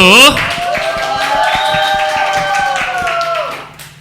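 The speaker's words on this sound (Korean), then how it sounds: "박수!" Audience clapping to open a special lecture on heaven and hell at a church school, a quick run of rhythmic claps mixed with a sustained voice or tones for about four seconds.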